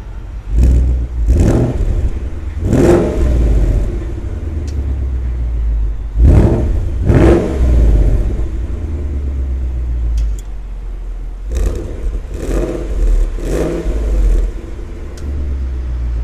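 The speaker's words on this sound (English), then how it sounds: "flick through each of the modes and give it a bit of a rev for you too" A 2018 Ford Mustang GT with active exhaust revs through its exhaust modes, several sharp loud blips rising over a deep idle rumble, some single and some in quick clusters, with no talk.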